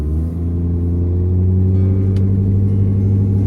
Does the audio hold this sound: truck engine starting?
yes